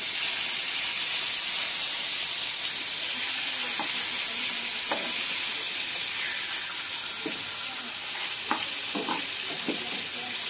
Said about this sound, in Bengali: এবার অন্য পিঠও আমরা হালকা করে ভেজে নেবো